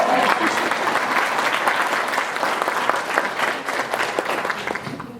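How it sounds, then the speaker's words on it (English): An audience claps steadily and densely at a faith-centred breakfast event, a loud sustained round of applause that fades slightly toward the end, with no one speaking over it. "Okay, we clap for that."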